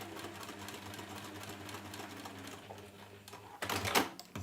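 A sewing machine stitches around a fabric pouch in a steady, continuous mechanical whir, then a short louder burst of clattering near the end.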